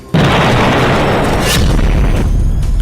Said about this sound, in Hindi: इजराइल की सेना ने सबसे ताजा वीडियो जारी करते हुए दावा किया कि उसने हिजबुल्लाह की इस इमारत को तबाह कर दिया है